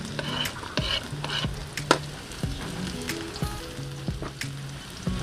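Onion and garlic sauté in a pan over a homemade termite-mound stove, with a bright continuous sizzle and frequent spatula scrapes and clicks up close, and no talking.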